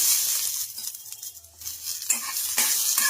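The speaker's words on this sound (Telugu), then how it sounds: "ఈ పల్లీలను కూడా బాగా ఫ్రై చేసుకోవాలి" Peanuts frying and being stirred in a pan for an idli dish, a steady close sizzle with scraping stirs that dips briefly mid-way, then returns louder.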